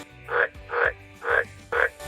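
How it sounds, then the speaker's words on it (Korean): An AI-generated frog sound effect gives four loud, evenly spaced croaks, each about a quarter second long, repeating at a steady rhythm with short gaps between them. No other sound is heard. "그 다음에는 개구리입니다."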